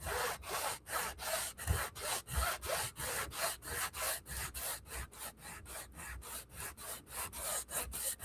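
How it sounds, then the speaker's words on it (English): A sanding block rubs back and forth over the wooden base of a model railway layout in a steady rhythm of about three strokes per second, close and fairly soft, with no talking. "I'm going to use my sanding block"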